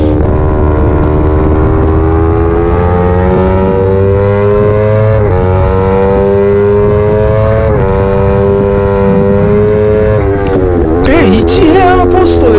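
A Yamaha R25 on IRC RX-03 Spec R tires screams around Tsukuba Circuit, its engine loud and close, pitch climbing steadily through the revs with a few quick gear shifts and a wavering burst near the end.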